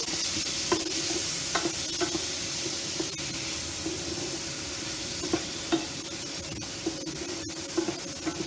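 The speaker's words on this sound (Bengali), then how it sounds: "একটু জল দেব, মশলাটাকে মাখাবো।" A spice paste with a little water, for a potato and pointed gourd curry, sizzles and hisses in a hot pan while a utensil stirs it with soft, irregular scraping taps, close up and without talk.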